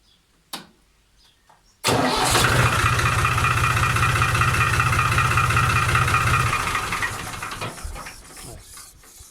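A New Holland 50C tractor engine cranks briefly after a short click, then fires and runs loud and close with a steady low throb for several seconds before dropping off and shutting down.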